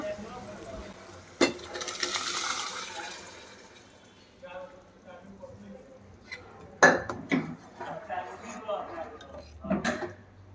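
Contents of a pressure cooker being poured and scraped into a pot of sambar, with metallic clanks of vessels and spoon, soft liquid sounds, and a person talking intermittently over the kitchen noise.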